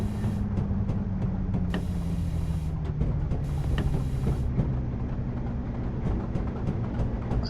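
Class 55 diesel locomotive hauling a long train in Train Simulator 2017 on the Weardale & Teesdale line, a steady low engine drone with faint rhythmic rail clicks running continuously throughout.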